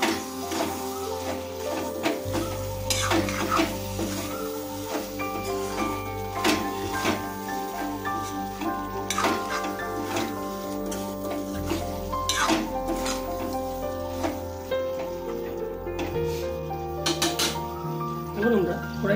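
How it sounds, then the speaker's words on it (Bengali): Half-fried okra is stirred into gravy in a wok over a low flame, with repeated scraping and clinking of a spatula under a speaking voice and background music. "এখন এটাকে আমরা মিনিট 3 ধরে লো ফ্লেমে কষাতে থাকবো"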